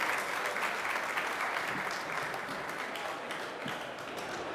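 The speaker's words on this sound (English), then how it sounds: "how about a nice round of applause for Corey and" Business audience applauding after a startup pitch at an innovation award event, a steady wash of many hands clapping that holds fairly evenly and fades slightly toward the end.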